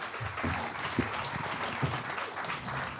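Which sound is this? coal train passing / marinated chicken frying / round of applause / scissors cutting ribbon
round of applause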